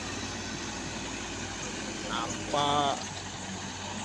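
A truck on a cross-Sumatra to Aceh run keeps up a steady low engine drone, briefly swelling as the throttle is pressed, with a voice talking over it.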